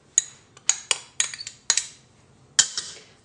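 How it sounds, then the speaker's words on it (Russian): A spoon clinks repeatedly against a bowl while a blend of paprika, ground black pepper, Provençal herbs and garlic is mixed, giving sharp metallic taps in an uneven rhythm, close and fairly loud, with no talk. "Всю эту смесь я теперь хорошо перемешиваю."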